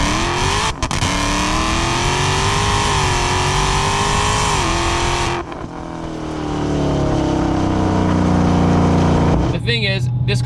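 Loud, steady roar of a supercharged 1000 hp Dodge Demon engine with a 4.5 liter Whipple blower, a sustained whine rising and falling, then deepening after a shift, heard up close from inside the car.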